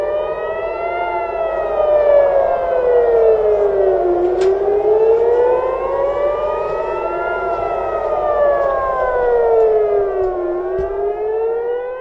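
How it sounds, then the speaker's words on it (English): Air raid sirens wail across Tel Aviv at night during missile strikes, a loud steady civil defense tone sweeping slowly up and down in long repeated cycles, with no other sound over it. "Let's listen in to the air raid sirens."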